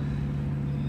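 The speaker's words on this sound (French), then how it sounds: "vous entendez la voiture ronronner, et franchement ça fait un boucan et je kiffe" An Audi TT 8N with a 225 hp engine and a newly fitted loud exhaust line rumbles at a steady, deep, close idle, with no other sounds.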